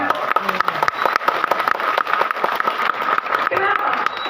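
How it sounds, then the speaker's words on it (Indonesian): Audience clapping at an Islamic sermon in Indonesia, a dense, lively patter of many hands with sharp individual claps standing out, loud and close throughout, with some crowd noise mixed in. "Tepuk tangan untuk NU."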